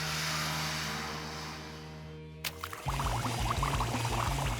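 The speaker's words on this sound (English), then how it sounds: "Now let's try it with the straw like this so it pushes into the water." Air blown through a straw into water, a home science experiment, bubbling steadily and close for the final two seconds after a quieter, smoother stretch.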